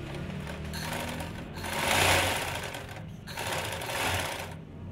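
A sewing machine runs in steady bursts while stitching a silk dupatta, with a short pause near the middle, fairly close and loud, with no voices.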